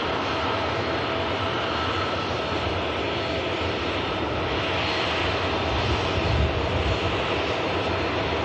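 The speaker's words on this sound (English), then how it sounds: "EasyJet arrived in from Hamburg on the south runway." An airliner on the runway at Manchester Airport gives off a steady, broadband jet roar, a loud, sustained wash of engine noise with no breaks or talking.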